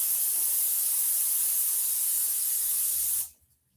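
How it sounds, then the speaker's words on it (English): Cooking spray hisses from an aerosol can in one long, steady, close burst lasting about three seconds, then cuts off abruptly into near silence. "So I'm just going to put more spray on it."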